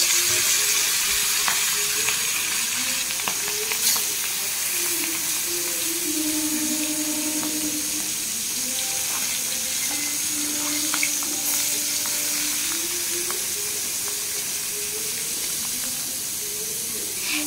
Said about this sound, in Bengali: তো কড়াইতে তেল গরম হয়ে গেছে, দিয়ে দেবো মাছ।